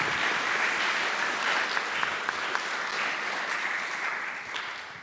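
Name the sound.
audience applause for Jane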